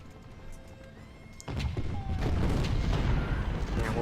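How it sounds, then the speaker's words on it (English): Cannon fire on a Civil War battlefield in the strategy game Ultimate General: Civil War, a quiet stretch suddenly giving way to a loud, sustained rumble of booms and crashes, with a voice faintly in the mix. "And we'll be in cannon fire the whole time."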